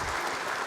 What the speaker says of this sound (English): We could give Armin a round of applause